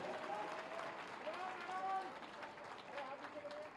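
Beneficiaries and guests at a housing-key handover ceremony at Police Lines, Moradabad clap in soft, scattered applause that runs underneath someone speaking over a public address system.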